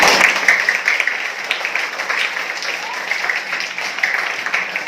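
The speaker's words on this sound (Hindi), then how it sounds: "उनके लिए जोरदार तालियां बजाएं" An audience at a school welcome event for children applauds the parents, producing a few seconds of moderately loud, uneven clapping from a crowd with small swells in intensity.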